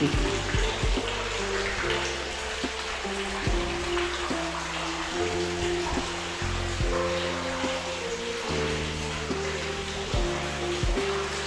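Water flowing from a cow-mouth spout at a Hindu temple, a steady wash of splashing and rushing that runs without pause and stays close and fairly loud, with a low hum running beneath it.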